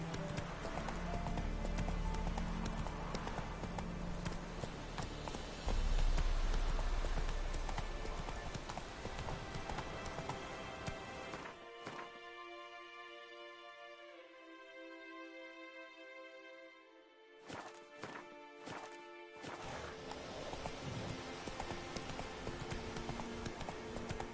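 Roach the horse gallops in The Witcher 3, hooves pounding in a fast continuous clip-clop rhythm, loud and close, broken by a short stretch of tonal music before the hoofbeats resume.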